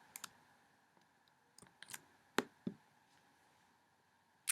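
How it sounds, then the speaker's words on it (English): Several sharp mouse clicks on a send button, scattered and irregular, with a couple of louder isolated clicks near the middle, heard alone in a quiet room. "go ahead and click send"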